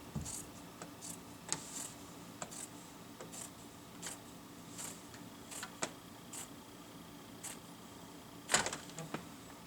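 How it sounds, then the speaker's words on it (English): Scissors snip woven fabric free from a loom in a quiet room, a series of short, sharp, irregularly spaced cuts, the loudest one near the end. "we cut the whole thing off the loom."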